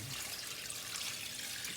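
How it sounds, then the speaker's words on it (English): Bone water pours into a big pot of cooked lamb for a Persian herb stew, a steady splashing rush heard close and alone. "Now I'm adding the water, the bone water,"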